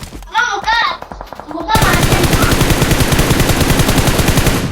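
Rapid P90 automatic gunfire in BGMI (PUBG Mobile), a fast, evenly spaced burst of loud shots that runs continuously after someone speaks in Hindi over a quieter start.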